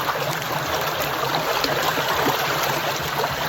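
Fresh spring water flows at Binaliw Spring in Sitio Binaliw, Barangay Bagatayam, Sogod, Cebu, making a steady, close rushing and trickling sound with no voices.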